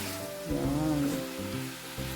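Pork frying in its own rendered fat gives a steady, close sizzle with a brief louder swell and some faint stirring, and no voices.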